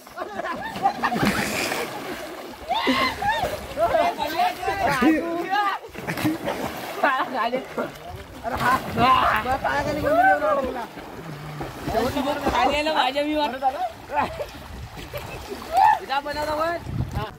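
Water splashes and sloshes as people swim in a village river, irregular bursts close by, mixed with voices talking and calling throughout.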